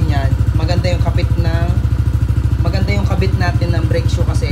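A Yamaha Aerox scooter engine idles steadily up close with a fast regular putter while the rear wheel spins freely after brake shoe work, and someone talks over it throughout.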